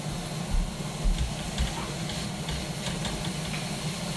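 Meat hitting a hot pan for cooking with eggs gives a steady broadband hiss and sizzle, with a few soft low thumps as pieces land, close and moderately loud throughout.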